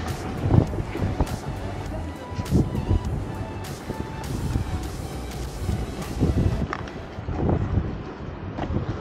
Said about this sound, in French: Il y a un peu de vent qui s'est levé